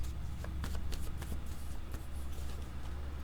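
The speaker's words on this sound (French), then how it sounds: "je vais demander une carte sur le cercueil" A tarot deck is shuffled and a card is drawn during a reading, with soft papery flicks and riffles close by over a steady low background hum.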